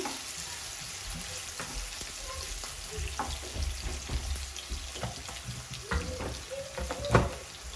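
Onions sizzling in hot oil in a pan for beef yakhni pulao, a steady frying hiss with occasional stirring clatter and soft taps throughout.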